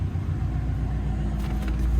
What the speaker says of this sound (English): rev it up for you so you get an idea how this car sounds